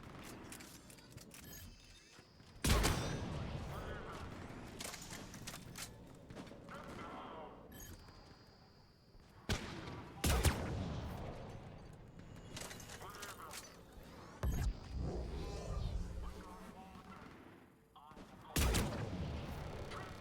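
Bursts of gunfire in the video game Mass Effect 3 break out several times, loud sharp volleys separated by quieter stretches of game ambience and rumble.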